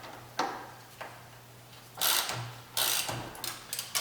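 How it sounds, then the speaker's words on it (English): A ratchet loosens the battery terminal clamp on a 1.4L Chevy Cruze, producing scattered metallic clicks and short bursts of ratcheting, close and moderately loud, with quiet pauses between them. "loosening up the clamp."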